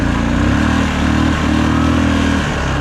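A cheap used four-wheeler ATV with a worn, dusty belt drive and a noisy fan drones steadily as it drives along. The engine hum is loud and close, with small shifts in pitch and no talk.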